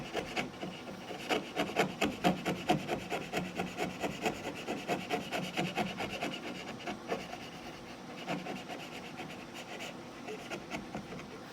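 A hand tool shaves wood out of the middle of a workpiece, giving a steady run of soft, rhythmic rasping strokes close by, quieter toward the end, with no talking.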